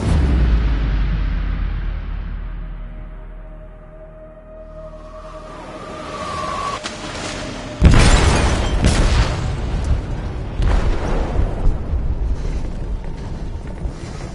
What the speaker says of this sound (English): They detonated an explosive in the hold.